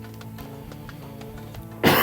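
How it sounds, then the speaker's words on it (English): A person gives one short harsh cough at the end, loud and close, after a quiet stretch of low background sound. "this is the coughing I was suffering about all the time"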